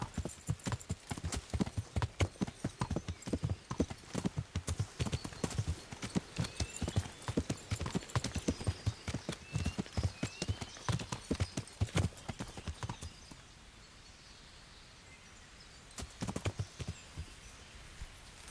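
A horse's hooves clip-clop in a quick, even rhythm, loud and close, for about thirteen seconds before the steps stop and only faint background remains.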